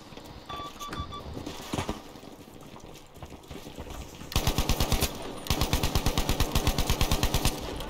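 Sustained automatic gunfire from Battlefield 5 on the Al Marj Encampment map: scattered shots and battle noise first, then two long, loud, evenly paced bursts of rapid fire with a short gap between them.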